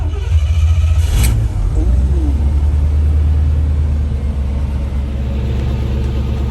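A Jeep CJ7 engine, after a damaged ignition switch was fixed, turns over and settles into a low, steady idling rumble, close by, with a brief voice near the start.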